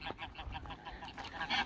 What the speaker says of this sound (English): Here we see the white geese in the Keswick countryside.